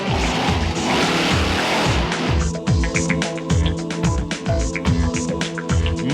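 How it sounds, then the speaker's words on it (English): A monster truck jumps and runs on asphalt at a Night of Fire event at Bristol, Tennessee, throwing sparks out the back: a loud, continuous engine roar with repeated revving surges and sharp bangs, close and steady throughout. "Monster trucks on asphalt."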